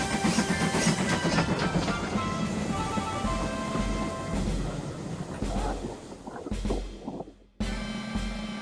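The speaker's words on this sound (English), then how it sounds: "Douglas was taking a goods train from the coastal side of Sodor and up to the shunting yards" A goods train runs steadily along rails near the coast, a dense rumbling roll with rhythmic clatter that thins out toward the end before a brief resurgence.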